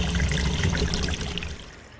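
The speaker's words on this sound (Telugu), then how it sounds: "ఇప్పుడు కొంచెం చింతపండు తీసుకుని నీళ్లు వేసుకుని నానబెట్టుకోవాలి." Water poured over tamarind in a bowl to soak it for a Telugu fish curry, a brief close splashing pour that fades out after about two seconds, with no talk.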